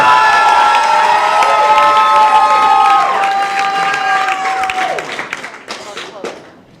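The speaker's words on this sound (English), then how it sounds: "it's awkward to like have the clapping happen" A comedy club crowd cheers and whoops loudly with clapping mixed in, shrill shouts ringing out before the noise gradually fades.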